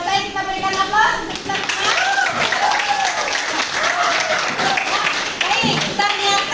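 A class of children claps together in a classroom, the applause steady and close. Children's voices and calls rise over the clapping.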